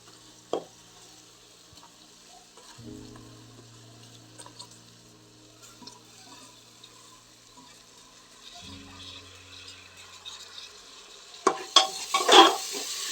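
Washed, drained rice being stir-fried in spice masala in a pot: quiet scraping and stirring with a soft, low sizzle, light clinks of the utensil, and a louder burst of scraping near the end.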